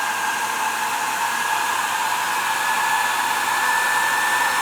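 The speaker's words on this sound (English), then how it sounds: "Now the cooling fans are on." Cooling fans of an Anker SOLIX F2000 portable power station running at speed under load, a steady loud broadband whoosh with a faint high whine, constant throughout with no talk.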